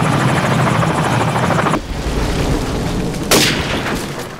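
A Call of Duty 4 helicopter thumps loudly overhead in a multiplayer match, its rotor drone cutting off abruptly, followed by quieter rumbling and a sharp explosive burst near the end.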